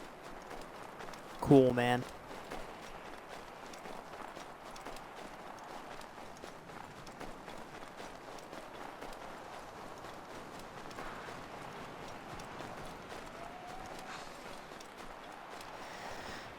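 Rhythmic horse hoofbeats clop along steadily at a galloping pace for the whole stretch in the video game Assassin's Creed III, with a short spoken remark and a brief tonal burst near the start.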